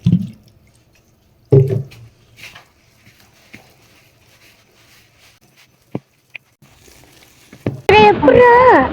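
Water sprinkled and mixed by hand into onion bonda batter gives a couple of wet, squishy splashes near the start, then quiet stirring, with a voice speaking briefly at the end.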